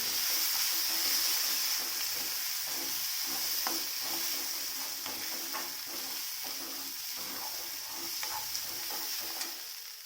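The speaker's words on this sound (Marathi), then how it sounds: "जरा तेलात मिक्स करून घ्यायची" Chopped sefu greens stirred in hot oil in a pan: a steady bright sizzle runs throughout, with soft scraping strokes of a spoon at an irregular rhythm, close and moderately quiet.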